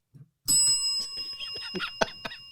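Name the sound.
cuss bell sound effect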